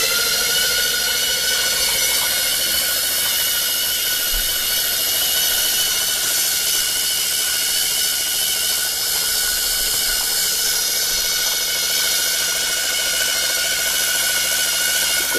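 Spinning motors give off a loud, continuous high whine and hum that stays steady and unbroken for about fifteen seconds, with no voices.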